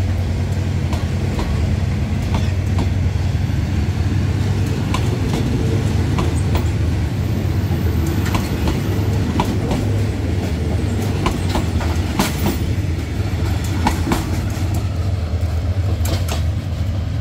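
A freight train hauled by GEA diesel locomotives departs Bang Sue junction in Bangkok, Thailand, with a steady loud engine rumble and rhythmic clickety-clack of wagons rolling close by throughout.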